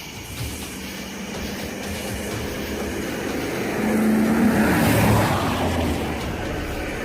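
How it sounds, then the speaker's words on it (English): Oncoming traffic at night on a bridge: a vehicle engine swells from a distant rumble into a louder roar that peaks and then eases, with steady road noise throughout. "The sound of an approaching engine turns out to be nothing more than oncoming traffic."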